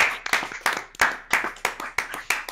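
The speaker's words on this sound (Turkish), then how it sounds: "Alkış." Eight loud, sharp claps in a steady rhythm, close up, with nothing else around them.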